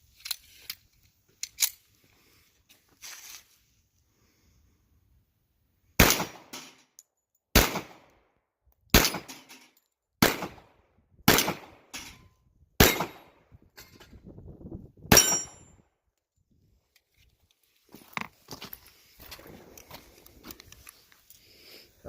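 Pistol shots from a Tisas 1911 in .45 ACP fired at a range: about eight sharp, loud reports spaced roughly one to two seconds apart, each with a short ringing tail, with a few scattered clicks and handling sounds before and after.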